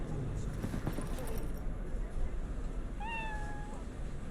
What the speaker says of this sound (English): One of those furless cats.